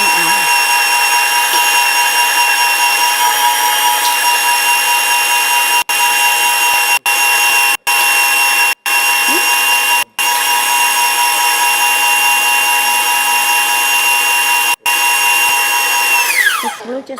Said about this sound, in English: Now we're going to add the eggs one at a time and beating after each addition.